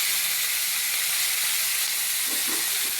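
Prawns fry in a pan, a loud, dense, continuous sizzle and hiss that stays close and even throughout, with faint stirring knocks near the end and no talking.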